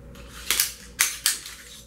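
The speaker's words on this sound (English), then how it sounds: "So putting the slide on and off" Stainless steel slide of a Ruger American 9mm pistol sliding on and off its polished, beveled rails, giving three sharp metallic clacks about a quarter to half second apart, close and clear with no talking.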